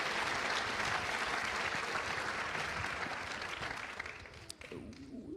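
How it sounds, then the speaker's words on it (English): A lecture audience gives a steady burst of applause for a speaker, which thins and fades toward the end as a voice starts to come through. "Give him a big round of applause,"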